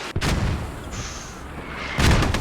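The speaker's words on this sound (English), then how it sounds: "Excellent mortars on this striker." Mortar fire from a Striker vehicle in a Squad-style military video game match, with heavy booming shots at the start and near the end over a steady rumbling battlefield background.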